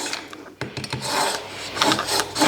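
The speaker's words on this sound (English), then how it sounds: "I'll just rinse the knife. I'll just give that a little bit of a sharpen." A seafood-prep knife being sharpened gives a few quick rasping strokes, close and fairly loud, with scraping rubs in between and no talk.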